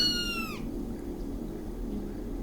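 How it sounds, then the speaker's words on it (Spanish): A small kitten gives one short, high, falling meow at the start, then only a low steady background hum remains. "la abuela le regaló un gato pequeño"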